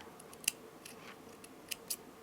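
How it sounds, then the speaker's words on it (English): Scissors snipping beading thread for a handmade seed bead necklace, a few crisp close-up metallic snips at irregular intervals over a quiet background. "And now with the scissors I will cut the thread"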